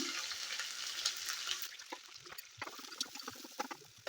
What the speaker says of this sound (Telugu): వీటిలలో మసాలా లవంగాలు పట్టా లవంగాలు అవన్నీ ఇవ్వదండి ఉల్లిపాయలు వేస్తున్నాను